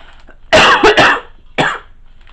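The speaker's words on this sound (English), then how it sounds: "I'm coughing on you." A woman coughs in a short burst of three rough coughs, then pauses and gives one more cough, close and loud against a quiet indoor room.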